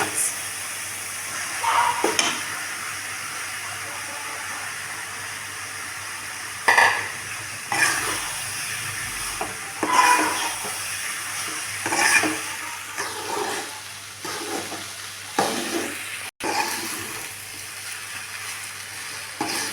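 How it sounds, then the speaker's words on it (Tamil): Cooked rice is stirred in a pan for coriander rice, with a soft sizzle running throughout and intermittent scraping of a spoon against the pan, close and moderate. "இப்போ வந்து சாதம் போட்டு கிண்டிக்கலாம்"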